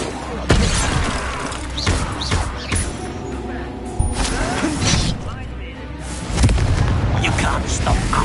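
An Expelliarmus spell cast in the video game Hogwarts Legacy sets off loud crackling, shattering blasts with booming impacts amid ongoing combat noise.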